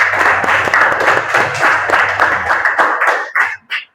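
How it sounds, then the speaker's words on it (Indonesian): A classroom group claps for a student presentation. The applause is dense and steady at first, then thins into a few scattered claps before stopping. "Kita berikan tepuk tangan dulu."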